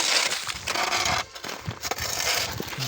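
Frozen ice on a driveway being broken up, with irregular crunching and cracking scrapes, close and fairly quiet, with brief pauses between impacts and no talk.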